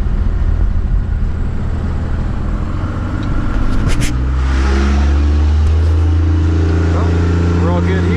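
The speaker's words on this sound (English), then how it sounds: "I was gonna get a little exhaust clip for you" A loud 7.3 PowerStroke diesel truck engine rumbles low and heavy, then revs up and settles into a deep throaty drone from the exhaust, close by.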